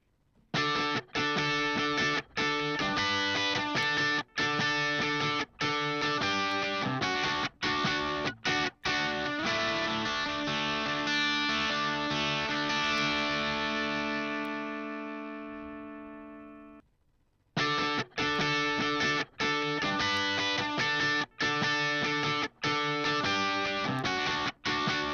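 An electric lead guitar plays a sustained mixed line with subtle nonlinear processing switched in and out; the loud, dense notes ring out to a fading held chord, break briefly into silence, then resume.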